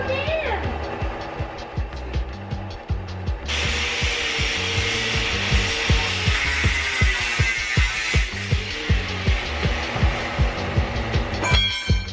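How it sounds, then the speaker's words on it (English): A power tool cuts holes in the roof of a 2008 Dodge Sprinter van, producing a loud, rhythmic rasping stroke pattern that continues throughout, with brief voices heard early on. "We are cutting holes in the roof to install 2 max air fans"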